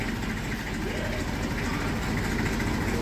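A small Massey 35 tractor engine runs steadily on a farm, a loud continuous low chugging rumble with a gritty mechanical texture and no breaks.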